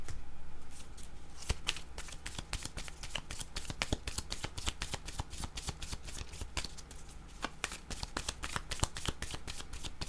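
Tarot cards are shuffled and drawn in a steady stream of soft, quick riffling with a few sharper snaps and slaps, close and quiet, with no one speaking.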